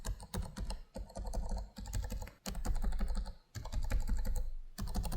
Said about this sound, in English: the Scar's keys have a lot longer key travel, a more satisfying click, and more stable feeling keys